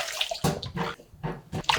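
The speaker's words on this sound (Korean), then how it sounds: "야채들을 씻어 보도록 하겠습니다." Tap water runs in uneven splashing bursts as eggplant, zucchini, carrot and onion are rinsed under it in a kitchen, the flow starting and stopping as each vegetable is turned under the stream, close and fairly loud.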